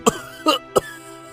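Three harsh coughs from an elderly father character in an animated Hindi story, in quick succession, close and fairly loud, with quiet between them.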